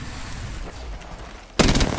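Gunfire in the Apex Legends video game: a sudden loud burst of rapid shots erupts after a quieter stretch of low background noise.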